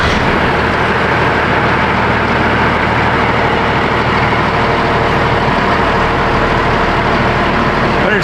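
Old truck engine running loud and close as the vehicle pulls away, a dense steady rumble with no talking over it.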